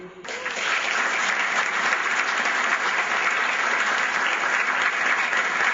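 An audience claps warmly after a lecture on geography and nature given by a geoscience professor, with dense, steady applause that fills the hall evenly from start to finish and sounds slightly muffled.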